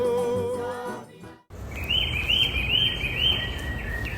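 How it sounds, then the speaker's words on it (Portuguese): A rufous-bellied thrush, the sabiá-laranjeira, sings clear, whistled phrases that repeat over a rushing outdoor background, following a brief stretch of music. "Uma delas se destaca, o sabiá-laranjeira."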